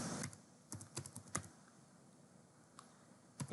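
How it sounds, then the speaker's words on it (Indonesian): Keystrokes on a computer keyboard as a short word is typed into a browser address bar, a few quick clustered clicks early on, then a pause and a couple more taps near the end, close and fairly quiet. "kita bisa ketikkan di sini localhost"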